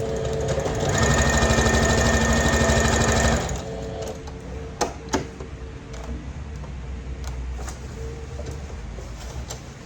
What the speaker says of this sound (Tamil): இப்போ இந்த தோல் மூட்டை நான் அமர்த்தி தைக்க போகிறேன்